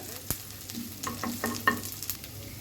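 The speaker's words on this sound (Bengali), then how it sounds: "পেঁয়াজ কুচি দিয়ে দিব দিয়ে দিতে হচ্ছে এলাচ দারচিনি মরিচ পেঁয়াজ একটু ব্রাউন করে ভেজে নিব" Chopped onions fry with cardamom, cinnamon and chilies, a low sizzle under a string of close spatula scrapes and knocks against the pan.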